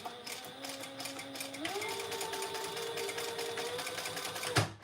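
Domestic sewing machine stitching two pieces of fabric together, a steady close whirring run that shifts up in speed partway through and stops near the end.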